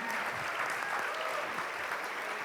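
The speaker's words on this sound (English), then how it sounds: "So big round of applause for Avni and Priyanka." Audience applause at a solo classical concert, dense sustained clapping from a crowd filling the hall evenly for a couple of seconds.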